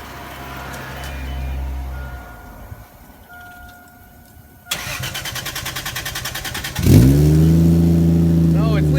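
Toyota 1JZ engine fitted with a Powerstroke diesel exhaust, idling low and then starting up into a pulsing, rapid run before a loud rev rises and holds near the end, with faint talk early on.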